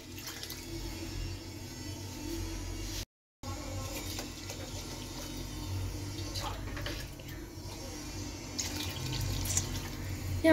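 Water runs from a tap during rice cooking, a steady close hiss and splash that continues throughout, broken once by a brief cut.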